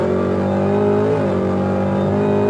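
A 900 hp Whipple-supercharged Cadillac CTS-V accelerating hard from 55 to 125 mph gives a loud, continuous engine roar heard close up. The pitch holds steady, with a brief dip at a gear shift, and no one talks.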